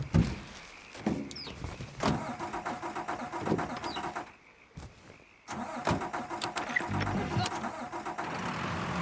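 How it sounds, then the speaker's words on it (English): Car engine cranking over for a couple of seconds before catching and settling into a mid-pitched idle in the video game Mafia 3, with a clunk like a door and a brief dropout partway through, at close range. "I like how it takes a little while to get the car/vehicle started"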